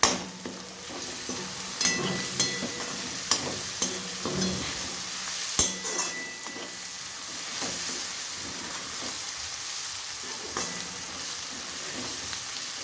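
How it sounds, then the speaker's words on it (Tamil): Onion and curry leaves fry in oil in a pan with a constant sizzle, while a spoon scrapes and stirs in repeated close knocks and scrapes throughout. "இப்போ கொஞ்சம் ஓரளவு வதங்கிருச்சு கருவேப்பிலையை போட்டுருவோம்"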